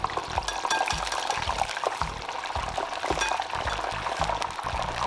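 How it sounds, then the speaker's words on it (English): Plantain slices bubble and crackle in hot oil with a busy, continuous sizzle, while repeated soft knocks and scrapes of a utensil break through at an irregular pace. "Now I am going to fry the plantain."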